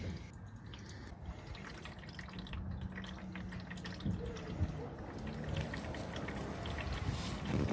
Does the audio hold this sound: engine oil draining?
yes